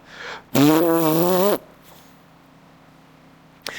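A loud, close, buzzy fart sound effect lasting about a second with a wobbling pitch, followed by quiet room tone and a brief click at the end.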